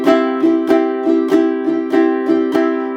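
Ukulele strummed gently up and away from the body, a steady series of about nine soft, evenly spaced strums on a sustained chord, close and clean with no talking.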